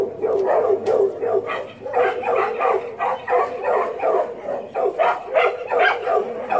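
Dogs bark back and forth at each other in a steady, overlapping run of loud barks and yips close by, with a brief low hum underneath at the start.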